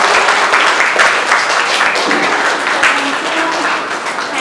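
An audience at an art academy's youth prize distribution breaks into sustained applause, a dense wash of clapping that tapers slightly toward the end.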